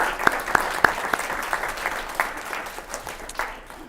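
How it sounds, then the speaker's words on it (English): Applause for the panelists at an elementary youth forum, a light, scattered round of clapping with a few sharp, close claps at the start that thins out and fades. "We can give them a round of applause."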